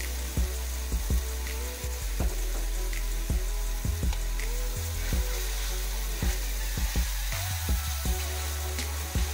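Chicken broth, lemon juice, zest, thyme and bay leaf sizzle and bubble in a skillet over an outdoor campfire, a steady close crackle broken by repeated stirring clicks and scrapes.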